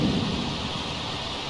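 A thunderstorm in The Sims 4 rolls in with a low rumble of thunder that fades over rain pattering steadily on surfaces, moderately loud and continuous, with no one talking.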